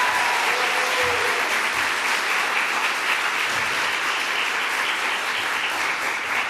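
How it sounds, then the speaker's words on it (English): A crowd at a legislation signing with Gov. Kathy Hochul gives Dr. Linda Prine a loud, dense round of applause that holds steady from start to finish, close and unbroken. "Let's give her a huge round of applause, Dr. Linda Prine."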